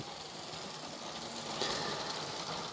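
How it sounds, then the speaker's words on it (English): A massive high-speed passenger train in a LEGO video game rolls past as a steady, broad rushing hiss that swells slightly toward the end, with no talking. "The massive high-speed passenger train."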